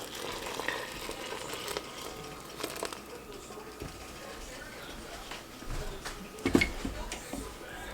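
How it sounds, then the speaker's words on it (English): Three cups of boiling water are poured into cornmeal in a kitchen for cornpone and stirred, a steady hiss and bubbling wash with scraping, clattering stirring strokes and a louder knock near the end, close by. "here's our 3 cups of boiling water."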